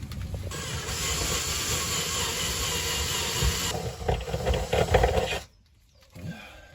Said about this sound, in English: now I'm going to go at it with a 10mm, because the 10mm is the same size as this hole